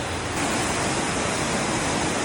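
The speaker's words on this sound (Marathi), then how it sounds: "पहा तो येणारा पाण्याचा धबधबा प्रवाह" Water pours steadily from a waterfall into the Aare river in Switzerland, a dense, constant rushing roar that fills the clip without a break, close and loud, with no voices.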